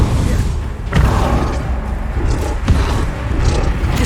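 A Bombarda spell blast in Hogwarts Legacy, deep booming thuds landing twice amid continuous low rumbling game noise.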